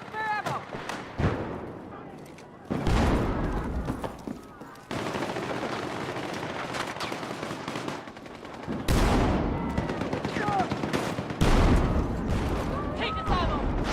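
Rapid gunfire in a shooter video game, shotgun blasts mixed with other weapons, loud repeated bangs in irregular bursts with sharp pops over a noisy battle.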